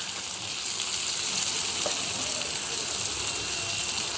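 Kilanga fish frying in a pan gives a steady, close hiss of sizzling oil that runs unbroken for the whole stretch, with no voices.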